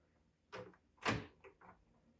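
A hotel room door with a security lock jamming it gives a few close, quiet knocks and thuds as it is pushed and rattled, one heavier bump standing out.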